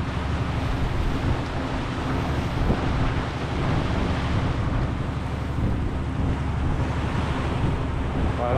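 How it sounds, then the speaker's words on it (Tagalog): Ocean waves at sea rush and churn continuously, mixed with buffeting wind noise across the microphone, a loud, unbroken wash with no speech. "Parang walang katapusan ng dagat"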